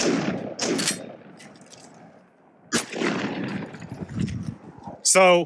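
A SPAS-12 semi-automatic shotgun fires test shells with weak ejection, a few sharp loud blasts spaced apart with reverberant tails, plus a brief metallic clink near the end.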